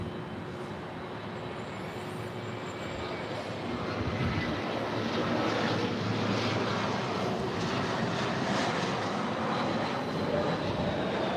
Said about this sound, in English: we await for the ANA, All Nippon Airways 777-300ER, heading to Tokyo Narita